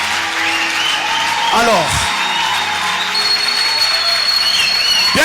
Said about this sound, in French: Que quelqu'un acclame le Seigneur.